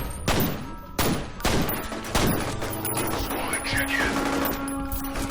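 Gunfire in the shooter game F.E.A.R. Extraction Point: several sharp, loud shots about a second apart, each with a ringing tail, then a busier stretch of quieter shots and effects while a voice talks over it.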